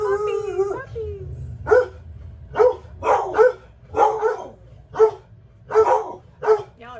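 Dogs at a campground near a camper bark in a run of sharp, loud bursts spaced about a second apart, starting after a brief whine and close to the microphone.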